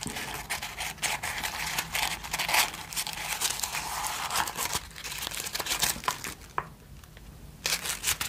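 Close crinkling of paper in bursts of sharp rustles and crackles, easing into a brief quieter gap before resuming.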